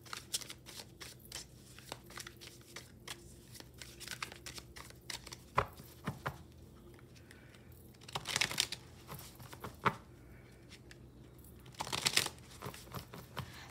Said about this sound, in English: Lousy shuffle.